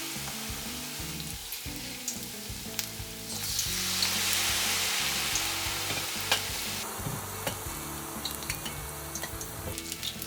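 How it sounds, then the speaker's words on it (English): Maitake mushroom tempura deep frying in oil at about 170 degrees over medium-low heat: a loud, continuous crackling sizzle with occasional clinks of utensils, close up. "I deep fry maitake mushrooms for a bit longer time to remove the water from it."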